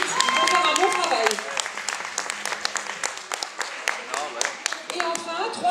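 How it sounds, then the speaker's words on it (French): At a fashion show presentation, an audience claps for the wedding photographers. Uneven clapping rises and falls beneath a voice that talks over much of it. "Une salve d'applaudissements pour eux"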